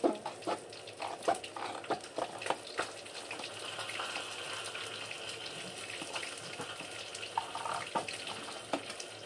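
Tap water runs steadily into a sink while a milk carton is rinsed for recycling in Japan, a soft close splashing with small knocks and clatters, no talking.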